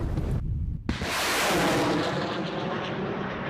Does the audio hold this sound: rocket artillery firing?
yes